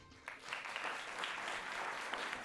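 Steady audience applause fills a college quiz bowl tournament hall as competing teams are introduced: dense, continuous clapping from a crowd, fairly loud and sustained throughout.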